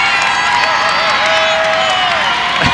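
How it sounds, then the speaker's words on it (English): A high school basketball crowd at a Woodward versus Anadarko senior night game erupts in loud sustained cheering and shouting over a play, with whoops rising above the dense roar and a sharp thump near the end. "Oh, the Anadarko crowd upset. The Boomer crowd happy."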